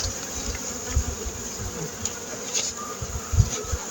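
Honeybees buzzing around an open hive during a colony inspection while preparing for winter, a steady close drone with occasional louder passes and soft low thumps.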